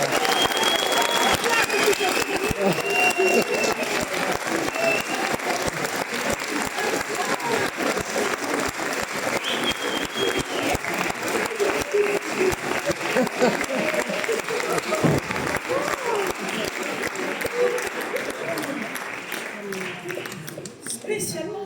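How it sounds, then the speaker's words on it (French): Sustained applause from an audience in a retirement home hall, dense clapping that holds steady for about twenty seconds and then tapers off, with a voice speaking over it. "Je vous demande d'applaudir, elle est là dans la salle."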